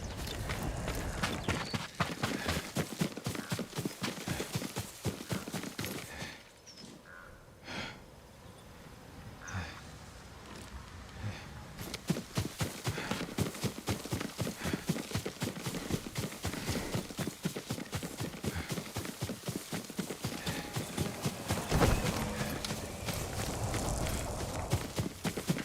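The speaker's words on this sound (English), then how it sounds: "Yuriko's horse." Hooves clop in a fast, continuous rhythm as a horse gallops in the samurai video game Ghost of Tsushima. The sound fades briefly in the middle before the galloping resumes, loud and close, with no neigh clearly standing out.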